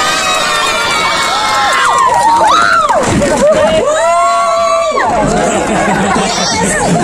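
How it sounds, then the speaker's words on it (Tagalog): A school audience at a speech choir competition shouts and cheers loudly, with whoops, high children's yells and crowd chatter rising and falling throughout, close and energetic. "Kulang pa yung sigawan."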